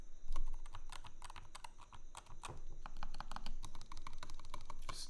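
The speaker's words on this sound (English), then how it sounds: "Also sounds like a keyboard." Fast, busy typing on a Melgeek Cyber 01 rapid trigger keyboard, a dense stream of sharp, close key clacks with a few heavier strikes mixed in and no talking.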